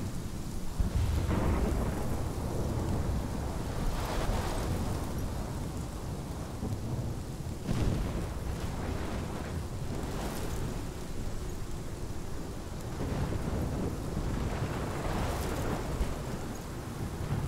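A thunderstorm in the video game Life is Strange: steady rain pours throughout while several deep thunder rumbles roll in and fade, with no voices.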